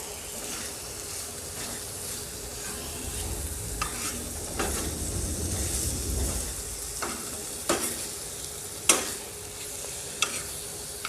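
Minced mutton or beef keema stir-fried on a flat tawa with garam masala and kasuri methi, giving a steady sizzle broken by sharp scraping clicks of a spatula against the metal.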